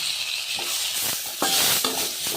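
Tomato goes into a hot frying pan while a bitter gourd curry is cooked, giving a steady sizzle with a few sharp clinks and stirring scrapes.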